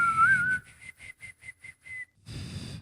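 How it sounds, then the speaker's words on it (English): A person whistles, first one steady, slightly wavering tone, then a run of six or seven short, evenly spaced chirps before a longer note returns, close to the microphone. "I can whistle"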